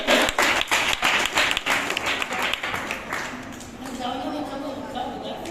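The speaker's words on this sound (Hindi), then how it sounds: "ताली बजाने में कोई कमी ना करे" An audience at a school event at Brahmi Sundari Vidya Niketan in Vishwas Nagar, Delhi, claps for students in a dense, steady burst that gradually thins and fades, with a voice speaking over it.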